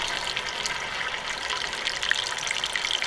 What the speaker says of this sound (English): Banyan's got a hose running from the top of the waterfall down into their deck wash that's pumping that through a carbon filter and out into our tanks